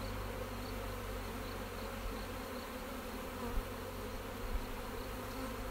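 Honeybees buzz in a steady, dense drone as a hive frame is lifted for inspection, the close swarm sound continuous and even throughout with no talking.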